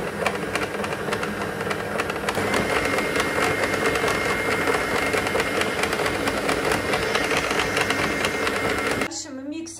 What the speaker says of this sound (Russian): Дальше мы миксер переключаем на медленную скорость.